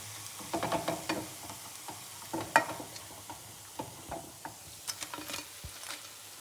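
Onion bajji frying crisp in hot oil, a soft steady bubbling sizzle punctuated by sharp clinks and scrapes of a utensil against the pan, close and moderately quiet, with no talking.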